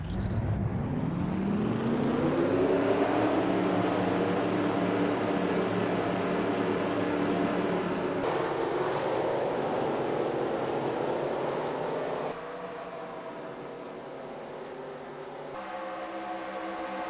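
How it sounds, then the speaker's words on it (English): Race truck engines fire up together at Daytona in a racing video game, a sustained loud roar that climbs in pitch, holds, then shifts and eases down in steps with no talk. "Drivers, start your engines!"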